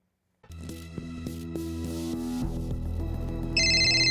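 A phone ringtone from a spoofed news-station call chirps in near the end, bright and steady, over a low musical bed that starts after a moment of silence.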